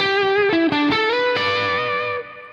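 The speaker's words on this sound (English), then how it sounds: "the only thing it's not great at, is single note soloing up high on the bridge pickup" An electric guitar through a distortion pedal on the bridge pickup plays a short run of high single notes, buzzy and sustained, ending on a ringing note that fades.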